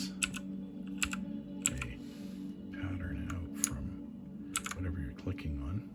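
Typing on an E-YOOSO 81-key mechanical keyboard, a thrift-store find: bursts of crisp, fairly close keystroke clicks in uneven clusters, with a low steady hum underneath and some faint background murmur.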